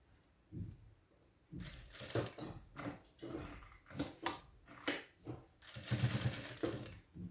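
A home sewing machine stitching a fabric pouch runs in short, uneven bursts of close mechanical whirring and clatter, separated by brief pauses.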